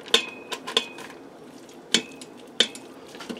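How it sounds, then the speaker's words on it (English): Butter gets stirred into shrimp scampi inside an Instant Pot, a soft simmering bed under four crisp clinks of a spoon against the metal pot, spaced irregularly and close by. "Just give that a stir there real quick."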